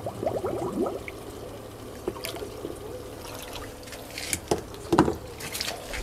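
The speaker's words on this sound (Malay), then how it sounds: "Kita keluarkan air dulu." Water draining out of a lobster breeding tank at home, a soft steady trickle and gurgle with occasional splashes, faint and continuous.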